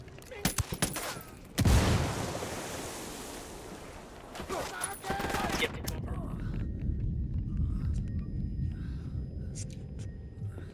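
Grenade blast and gunfire in the video game Ghost Recon Wildlands, with rapid close shots at the start, a loud heavy burst, then more volleys and a steady rumbling battle backdrop.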